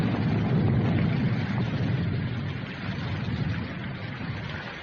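Rain falling in a 1947 film noir scene, a steady broadband hiss of rainfall that holds evenly throughout, fading slightly midway, with no voices.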